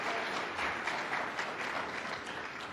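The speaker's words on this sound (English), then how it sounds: "Let's give our panelists a big round of applause" Conference audience at a family office investment event applauding panelists, a steady wash of clapping from many hands heard at a moderate distance with no talking.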